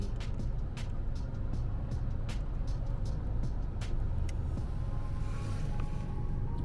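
Vehicles travel along a snowy highway, a steady broad road roar with tyre hiss and repeated clicks and thumps from passing traffic, continuous and fairly close.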